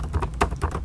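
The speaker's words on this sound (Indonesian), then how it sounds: "teman-teman ketikkan saja di terminal ini php artisan" Someone types a php artisan command into a terminal on a computer keyboard while working in Laravel 10. Quick, close, fairly even keystroke clicks tap along in a short burst over a low hum, with no talking.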